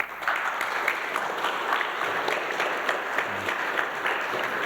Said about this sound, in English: I think you do deserve a great round of applause